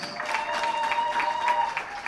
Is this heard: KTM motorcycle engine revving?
no